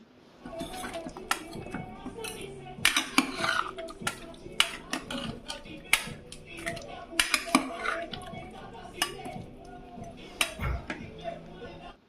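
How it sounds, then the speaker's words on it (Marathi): A pressure cooker lid being fitted onto the pot of a chicken curry, with a series of close metallic clanks, clinks and rattles of varying loudness, and some speech in the background. "आता कुकरचं झाकण लावते"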